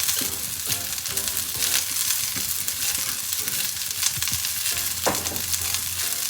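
Onions caramelize with a little sugar in a pan, a close, steady sizzle and crackle broken by frequent scraping stirs, louder bursts around the middle and toward the end.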